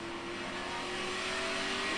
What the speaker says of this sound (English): Just listen to the throttle. You'll hear it.